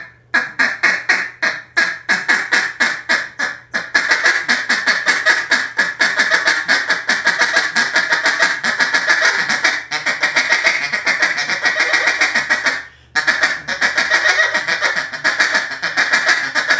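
Duck call blown in rapid rhythmic bursts imitating duck quacks and chatter, close and loud, with choppy staccato notes at first and then a dense continuous run of quacking with one brief pause.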